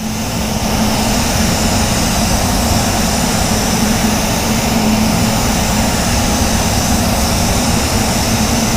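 A spray gun lays clear coat onto a Mercedes 280SL in a steady, loud, continuous hiss that runs unbroken throughout, with no talking.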